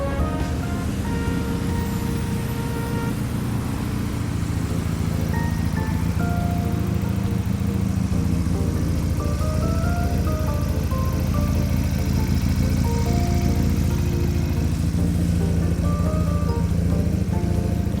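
A 2020 GPX Legend 250 Twin motorcycle idles steadily close by, a low continuous rumble, with faint melodic tones drifting over the noise throughout.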